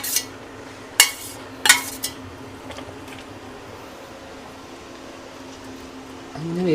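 A metal lid set onto a pot of cooking dal with vegetables and small onions, a few sharp close clanks and clinks in quick succession, then a quiet simmering background.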